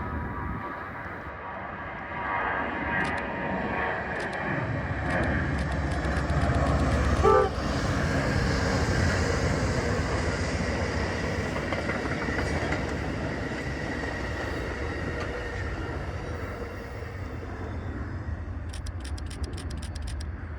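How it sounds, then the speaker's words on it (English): Southbound Northeast Regional passenger train passing near Long Bridge and Potomac Yard in Washington DC, a long sustained rumble of rolling wheels and rail noise building and holding loud, with a short horn-like toot and clicking rail joints near the end. "my last train was a southbound Northeast Regional"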